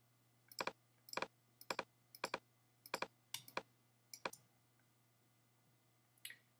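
A computer keyboard is clicked and typed on while editing in Photoshop: about eight quick, close bursts of sharp key taps at a steady pace, then a pause and one last tap.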